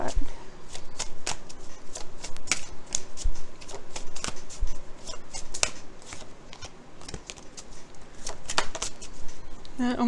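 Rapid riffling and slapping of a tarot deck being shuffled close by, repeated papery bursts for about ten seconds with a brief voice near the end.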